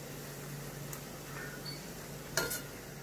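Brinjal fries in a pan with a faint, even sizzle under a low hum, broken by a couple of brief sharper crackles.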